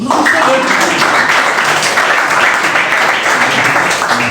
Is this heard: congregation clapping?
yes